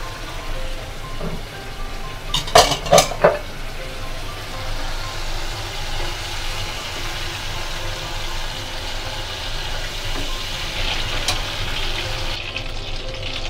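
Prawns frying in hot oil, a steady rain-like crackle of sizzling throughout, with a few sharp clatters of a utensil against the pan early on as the pieces are lifted out, close and continuous.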